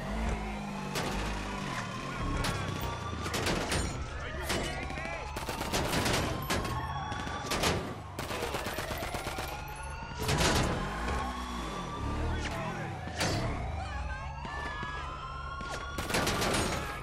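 Dense gunfire in GTA 5 Online during a first-person prison-yard fight, with rapid overlapping shots and bursts running almost continuously alongside vehicle engine noise and other game sounds.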